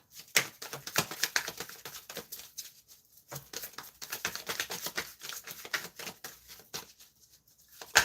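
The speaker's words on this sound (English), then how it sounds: "So now I'm just taking some extra time to shuffle this deck" A deck of tarot cards is shuffled by hand in quick, dense rustling and flicking bursts with a short pause in the middle, close and fairly loud, with no talk.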